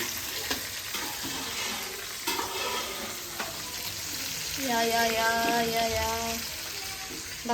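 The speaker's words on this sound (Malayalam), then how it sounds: "ചിക്കൻ പൊരിക്കുന്നു" Chicken leg pieces sizzle and crackle steadily as they fry in a hot pan, close by, with a brief humming tone rising midway.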